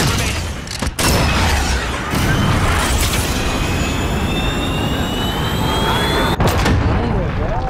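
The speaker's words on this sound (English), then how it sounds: "Cruise missile ready to launch." A video game cruise missile strike: a loud, sustained roar of jet engine and rumbling blast, with a descending whistle tone sweeping across, broken by a brief cut near the start and another near the end.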